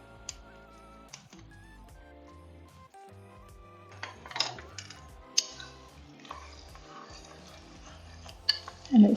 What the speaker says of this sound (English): I'm gonna stir in the pectin.